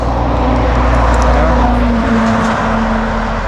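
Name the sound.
bus or truck passing on mountain road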